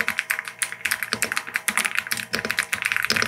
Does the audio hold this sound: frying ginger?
no